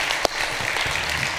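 Church congregation applauding in a sanctuary in Charleston, a dense, steady wash of clapping with one sharper clap near the start.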